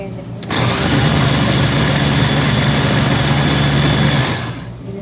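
A blender whirs loudly and steadily for about four seconds blending tomato, onion, garlic and spices, starting abruptly and winding down at the end.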